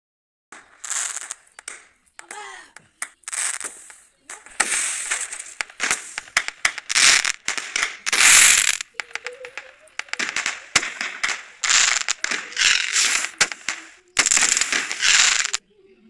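Large 5x10 sky shot fireworks set off during Diwali, with repeated loud crackling bursts and sharp pops in rapid clusters separated by short gaps. Someone talks between some of the volleys.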